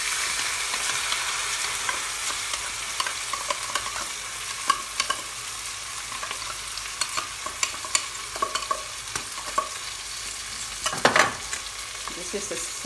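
Canned tuna and onion frying in a pan, a steady sizzle throughout with scattered scraping and stirring clicks and a sharper clatter near the end, no voices.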